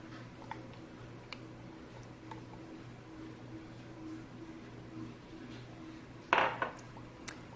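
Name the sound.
stirring olive oil into cookie batter in a bowl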